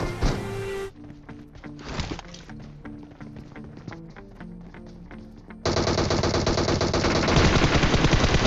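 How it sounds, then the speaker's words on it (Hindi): Video game gunfire coming from the front during a tense battle royale match: rapid automatic bursts and repeated sharp shots, loud and close, with a sustained dense volley near the end. "सामने की तरफ से फायर आ रहे थे काफ़ी सारे।"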